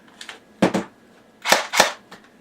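A modded airsoft AEP with an internal battery, silencer, light and larger magazines fires in two quick pairs of sharp, near pops, alone and close by, with short pauses between them.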